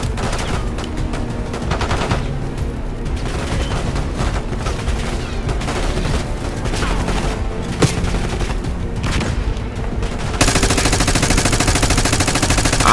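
Rapid automatic gunfire from the Call of Duty Black Ops 6 campaign rattles on loud and dense for the whole stretch, with bursts running into one another and a slightly brighter, fuller patch near the end.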